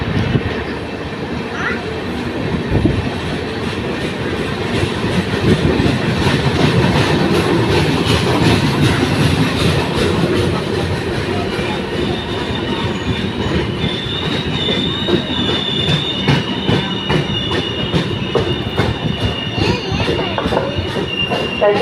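Nagarcoil superfast express rolling into a station platform, a loud continuous rumble of wagons with rhythmic wheel clatter over rail joints and rising metallic squeals from the wheels, heard up close throughout.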